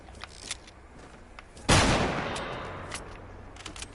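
A single loud gunshot blast in the Fortnite video game, with a long decaying tail, over faint scattered background clicks and distant shots.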